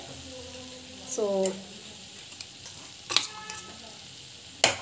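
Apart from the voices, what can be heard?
stirring grated coconut into frying okra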